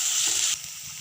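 Chopped tomatoes sauté in a pan for vegetable biryani, giving off a soft, hissing sizzle that is brighter at first and then settles to a quieter fizz.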